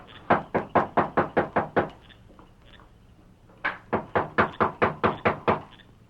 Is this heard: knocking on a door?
yes